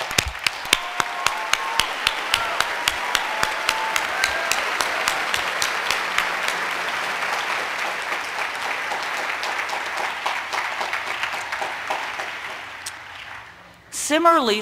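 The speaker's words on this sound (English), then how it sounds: "So I'd like all of you here to give our faculty a round of applause" At a Harvey Mudd College commencement, a large audience applauds the faculty in a long, full round of clapping that slowly thins, with a few sharp nearby claps standing out before a voice returns at the end.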